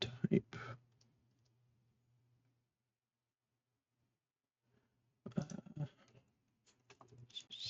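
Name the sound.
typing on computer keyboard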